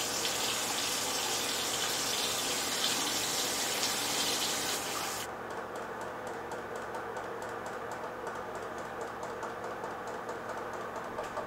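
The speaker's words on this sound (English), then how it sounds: "I'm gonna go ahead and wash the cleanser off" Tap water gushes steadily into a sink while face cleanser is rinsed off, a full hiss for about five seconds before dropping to a quieter, uneven trickle and splashing. No one speaks.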